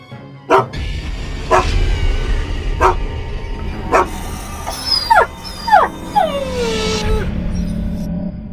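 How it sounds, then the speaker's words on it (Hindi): An injured dog emerging from bushes gives four sharp barks spaced about a second apart, then a run of high, wavering yelps and whimpering whines, loud and close. "तभी झाड़ियों में से एक कुत्ता बाहर आता है।"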